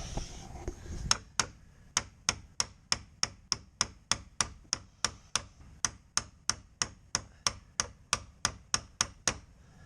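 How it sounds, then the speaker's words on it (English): Steady, evenly spaced hammer taps, about two per second, sharp and close, following a brief rustle at the start, while replacing glass on a Takeuchi TB135 mini excavator. "Carefully hit that with a hammer."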